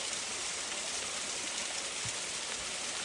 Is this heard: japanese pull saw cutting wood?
no